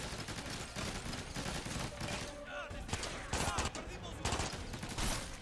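Rapid gunfire in the shooter game Ghost Recon Advanced Warfighter 2, dense bursts of automatic shots crackling in clusters over a busy battle backdrop, with a voice talking over it.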